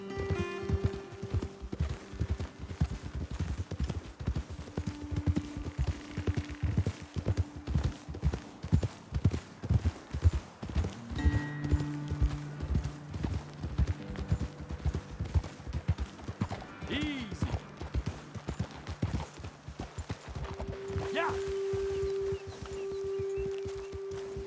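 Horse hooves clip-clop steadily through a ride in Red Dead Redemption 2, a continuous trotting rhythm with an occasional whinny, set against game music and ambient sounds.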